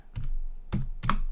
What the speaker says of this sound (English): open your terminal and type